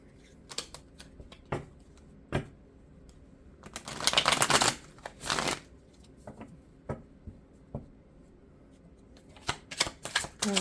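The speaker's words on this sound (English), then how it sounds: "One more shuffle." Tarot cards are shuffled by hand: scattered flicks and taps, then a dense riffling burst in the middle, followed by more sporadic snaps near and clear.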